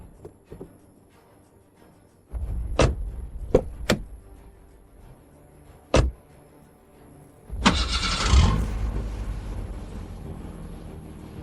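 A car door thuds and an engine cranks and catches as a vehicle starts after a desert sandstorm, preceded by a few sharp clicks and knocks, then a loud sustained rumble close by.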